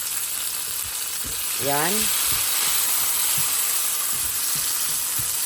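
Chopped onion and tomatoes fry in a pan for tomato scrambled eggs, a steady close sizzle with stirring, and a voice speaks briefly over it.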